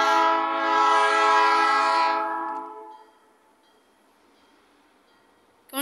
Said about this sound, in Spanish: ya puedo escuchar el silbato por fin